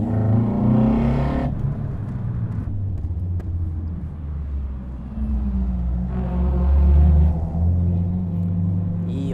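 A tuned 86 with a SARD four-throttle intake, MoTeC engine management and KW V4 Club Sport suspension revs hard, its engine roar rising and falling in two strong surges, with a close, loud, rumbling intake note throughout.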